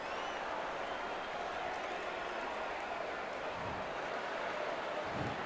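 A capacity arena crowd in the boxing video game Undisputed keeps up a steady roar of cheering and murmur, even and sustained throughout at moderate level.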